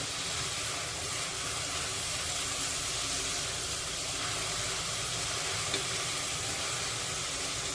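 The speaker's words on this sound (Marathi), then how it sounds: "टॅमॅटो चांगलं फोडणीमध्ये शिजवून घेऊया" Steady, even sizzling of tomato frying in hot oil tempering, continuous and fairly close, with no voices over it.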